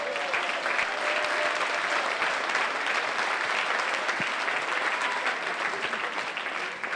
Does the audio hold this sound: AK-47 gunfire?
no